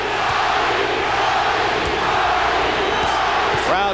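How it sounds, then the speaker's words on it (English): Boxing arena crowd at a Johnny Tapia fight roaring and chanting in a loud, continuous mass, rhythmic voices swelling over a steady din of cheering. "Crowd chanting, Johnny,"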